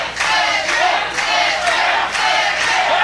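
A wrestling crowd at a CWF Mid-Atlantic match between Cedric Alexander and Smith Garrett roars and cheers loudly, with swelling waves of shouting that rise and fall in a steady, dense, continuous din.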